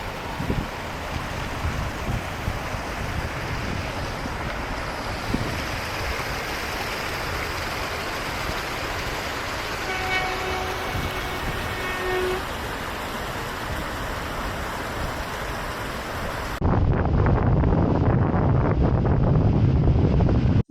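A small waterfall spilling into a river in Iceland, a continuous broad rushing roar, joined by stronger wind buffeting the microphone near the end.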